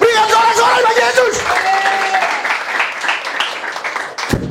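A church congregation cheers and applauds for Jesus, a loud mix of clapping and raised voices rising together and carrying on through the whole moment.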